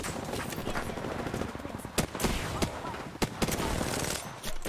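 A submachine gun in Apex Legends rattles off rapid bursts of automatic fire, loud and dense with sharp shot cracks standing out above the game's background noise.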